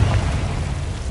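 A Confringo fire spell in Hogwarts Legacy lands as a brief, dense roaring blast with a crackling rumble, loud and close.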